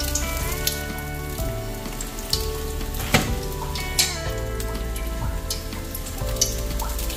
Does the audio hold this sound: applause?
no